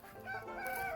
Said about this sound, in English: Look at us, a rooster.